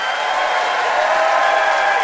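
A theater audience applauds to vote for a debater at a live show, a dense, steady wash of many hands clapping close and loud throughout, with no talk over it.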